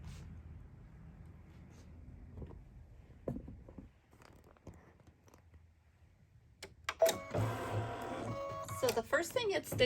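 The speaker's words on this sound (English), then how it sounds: "So the first thing it's stitching is our placement." Embroidery machine stitches a placement line, its rapid mechanical needle chatter starting partway through and running loud and close in rhythmic bursts, after quieter talk and clicks.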